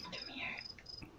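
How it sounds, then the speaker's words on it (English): Real crickets chirping behind a live streamer, thin high repeated trills that stop and start, faint and in the background with no speech over them. "I have actual crickets behind me right now."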